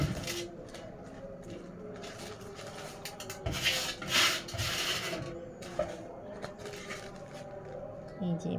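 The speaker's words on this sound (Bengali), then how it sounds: "তো এরকম একটি জিপলক ব্যাগে আমি ভরে নিচ্ছি।" Flower seeds are poured and packed into a plastic ziplock bag, making a continuous close rustling and rubbing of plastic while someone talks over it.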